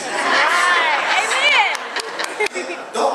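A church congregation breaks into a short burst of clapping and cheering, loud and close, mixed with crowd voices before tapering into scattered murmurs.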